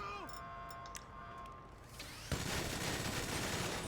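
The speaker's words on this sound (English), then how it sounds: "Oh, look at that minigun." Minigun firing in GTA, a sudden dense roar of rapid gunfire that starts partway through and runs steadily to the end, following quieter game sounds with some talk.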